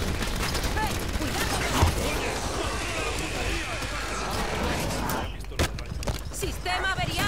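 Rapid gunfire from the Halo 5 video game crackles through a dense, busy battle mix, with bursts continuing across the stretch and voices talking over it.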